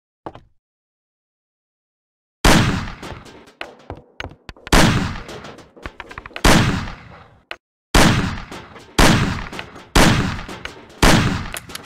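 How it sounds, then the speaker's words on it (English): Gunshots fired at cans on a table in the Mafia video game: a single shot, then a pause, then a string of loud, sharp reports spaced about a second apart, each with a short decaying tail. "Shoot the cans off of the table."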